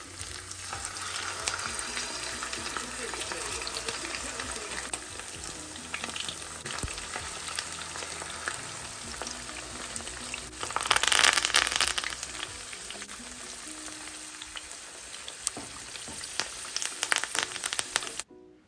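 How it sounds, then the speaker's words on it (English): Seasoned fish for Jamaican escovitch fry in hot oil with scotch bonnet pepper and garlic, giving a steady, dense sizzle and crackle throughout, swelling into a louder burst of spitting near the middle. "So let's put them in the oil first"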